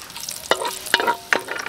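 Ginger sautéing in a pan for Filipino molo soup with pork ribs: a steady soft sizzle broken by three sharp scraping stirs of a utensil against the pan, close by, with no talk.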